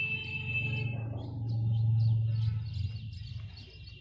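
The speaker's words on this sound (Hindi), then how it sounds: "तो इस तरह से चिड़ियाँ हमेशा बोलती रहती हैं" House sparrows kept at a home, chattering with light, scattered chirps that sit faintly above a steady low hum for the whole stretch.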